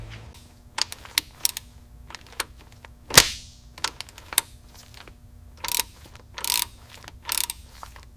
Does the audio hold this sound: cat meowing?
no